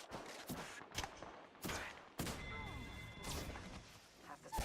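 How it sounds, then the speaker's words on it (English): Video game gunfire in a shooter match comes as several sharp cracks and short bursts, some close and loud and others further off. A faint tonal game sound and scattered noise sit between the shots. "I am taking fire, friends."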